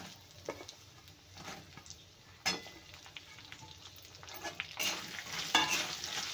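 Chopped onion sizzling and being stirred in a pan, a steady soft frying hiss broken by a few scraping stirs, the sound rising louder toward the end, with no voices.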